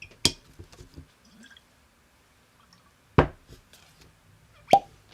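A cork pops from a bourbon bottle as a few sharp, close plopping transients spread over several seconds, with quiet rustling between them.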